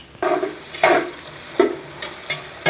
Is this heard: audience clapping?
no